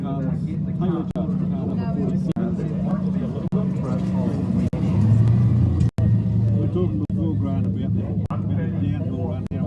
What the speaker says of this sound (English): Down through the finish line, here comes Taylor Judd, car number 47